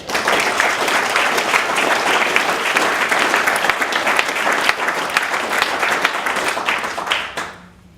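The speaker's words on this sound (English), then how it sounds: "another round of applause" A conference audience at a regional sport event gives a sustained round of dense, loud applause that holds steady, then dies away quickly in the final second.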